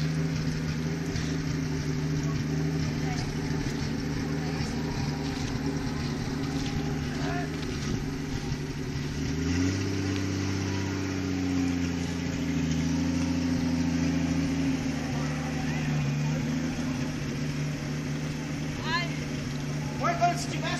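A jeep engine drones and revs steadily as the driver accelerates, with a noticeable pitch shift partway through as it climbs under load, loud and continuous with voices faintly mixed in.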